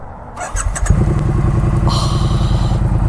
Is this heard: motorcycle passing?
yes